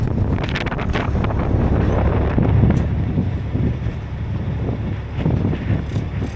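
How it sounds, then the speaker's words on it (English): Strong, brutal wind blows outdoors on a gusty day, a loud constant rumbling roar buffeting the microphone with rising and falling gusts throughout and no voices. "It's been brutally windy all day."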